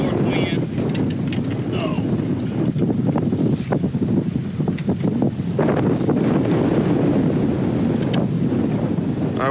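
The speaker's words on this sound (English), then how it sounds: "15-mile-an-hour north wind." Strong 15-mile-an-hour north wind on Neely Henry lake buffets the microphone in a constant loud rumble, with water slapping against a boat and occasional clattering underneath.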